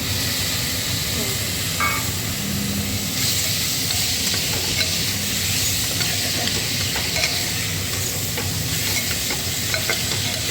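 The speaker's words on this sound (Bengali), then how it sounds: "এই দেখো খুব বেশি ভাজবো না একটু হালকা নাড়াচাড়া করে নেব" A Bengali white potato curry with chopped tomatoes sizzles steadily in a pan while being gently stirred, making a dense, close, continuous hiss with faint scraping from the spoon throughout.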